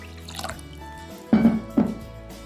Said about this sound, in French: je vais les mettre dans un vase et mettre un demi-litre d'eau environ